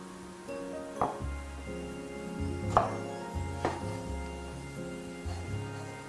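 A knife chops through stacked slices of tomato on a cutting board in a few soft, spaced thuds, faint and close, under quiet background music.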